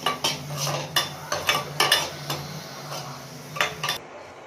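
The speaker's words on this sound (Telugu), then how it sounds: "అలానే ఇంకొంచెం నెయ్యి వేసి గోడంబి ద్రాక్ష వేసుకుందాం" Cashews and raisins are stirred in ghee in a pan for moong dal payasam. A series of close, sharp metallic clinks and scrapes from the spoon come in uneven strokes over a faint sizzle.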